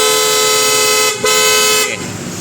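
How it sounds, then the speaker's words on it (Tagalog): A PIAA horn fitted to a Honda ADV160 scooter blares in one loud, sustained held blast, dipping briefly midway and shifting tone near the end as the press changes. "Sige, diinan mo lang yung yung busina."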